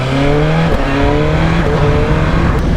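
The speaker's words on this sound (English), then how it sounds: "we're gonna rip around on the bike for a little bit, just enjoying myself being out on the bike" A 2025 BMW M1000XR motorcycle being ridden roars loud and close, its engine note holding steady then shifting pitch as it revs.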